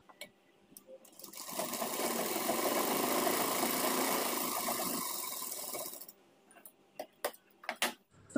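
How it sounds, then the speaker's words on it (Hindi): A sewing machine double-stitches the back part of a pair of trousers, running as a steady close whirring hum for about five seconds. Scattered clicks and handling of the fabric follow. "इसमें भी हम डबल सिलाई लगाएंगे।"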